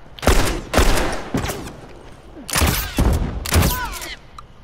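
Gunfire in The Last of Us Remastered multiplayer on the Capitol map, about five loud, separate shots or short bursts spaced irregularly, close and sharp, with a voice talking faintly between them.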